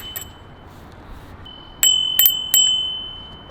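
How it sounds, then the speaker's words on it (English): A Boris Bike hire bicycle bell on a cold London street rings out in several bright metallic dings: one lone strike, then a quick double and another ring, each decaying slowly over faint background noise. "trying to find a bike with a good bell"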